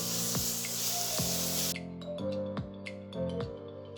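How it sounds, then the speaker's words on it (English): Tomatoes and onions fry in a pan with a steady, bright sizzle that cuts off partway through, while a melodic musical background of plucked notes keeps playing. "We will continue with the process of frying this until the tomatoes and onions are very well fried."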